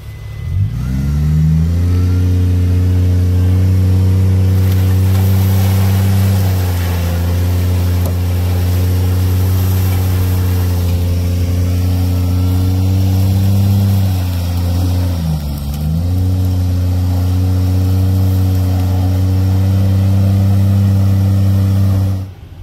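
A vehicle stuck in a boggy mire, its engine droning steadily on light throttle, loud and close, with small rev changes and a brief dip midway, no voices.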